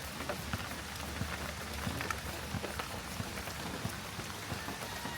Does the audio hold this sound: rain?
yes